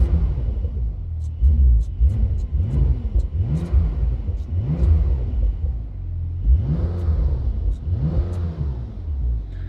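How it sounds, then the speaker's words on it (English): Brabus-tuned Porsche 911 Turbo S flat-six with Brabus exhaust, set to Sport Plus, revving hard in a series of repeated loud blips that rise and fall, heard close from inside the car with no talking. "it's the special Porsche flat 6 engine sound"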